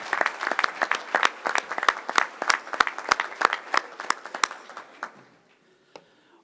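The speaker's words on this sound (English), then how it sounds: "let's give our artists one more round of applause" A school board meeting audience gives student artists a round of applause, a dense burst of clapping close by that thins out and stops near the end, with a last stray clap.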